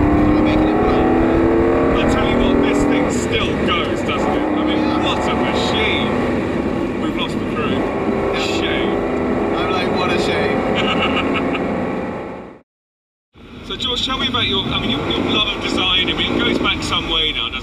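A Ferrari 275 GTB engine roars steadily and loudly throughout, its tone rising and falling, with a voice talking over it and a brief dropout near the end.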